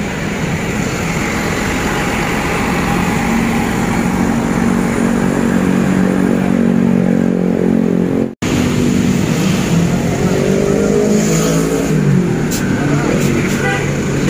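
Sumber Jaya bus departing for Jogja: a loud, steady diesel engine drone and road noise close by, with a brief dropout partway through and light clatter near the end.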